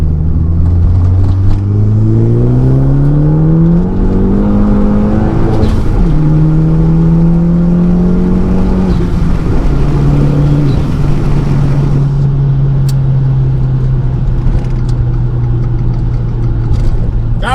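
A Fiat 500 Abarth accelerates hard through the gears, its engine note climbing loud and close, dropping at each shift and climbing again, then holding a steady drone at speed with no talk.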